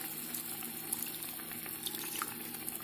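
Water is poured into a simple Sri Lankan lamb curry in the pot, a soft, continuous splashing and trickle with faint crackles, low in level and heard alone.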